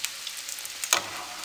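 Potato nuggets sizzle in hot oil with a steady crackling hiss and a brief sharper spatter burst.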